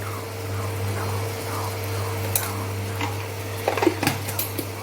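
A fork whisks eggs for an omelet in a bowl, giving a quick cluster of light clinks and taps late on over a steady background hum, with some faint scraping earlier.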